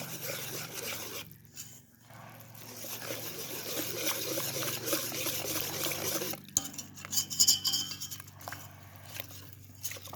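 Batter for Asian sweet steamed rice cakes being stirred in a bowl, with soft repeated scraping and swishing strokes that come close and quiet, pause briefly, then turn into sharper clinking scrapes near the end.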